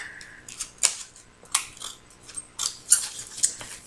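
Scissors cutting a shape from paper for a handmade Mother's Day gift: close, crisp snips arriving in a loose series of about six cuts, separated by brief pauses.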